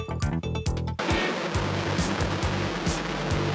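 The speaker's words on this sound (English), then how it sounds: "Then they splashed into the ocean." A space capsule splashes down into the ocean, heard as a sharp burst of mechanical clunks and thuds followed by a sustained roar of churning surf and crashing waves that persists loudly to the end.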